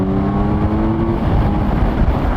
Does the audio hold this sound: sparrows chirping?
no